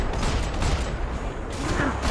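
Gunshots in the Max Payne 3 video game, a rapid cluster of shots over a dense game ambience, fairly loud with no talking.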